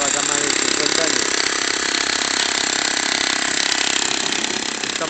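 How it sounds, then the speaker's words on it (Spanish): A rented jackhammer pounds steadily into an old concrete base more than fifty years old, loud and close, with a continuous rapid hammering that runs the whole time. "hemos alquilado un taladro para que saque esta estructura, esta base antigua que estaba acá más de 50 años"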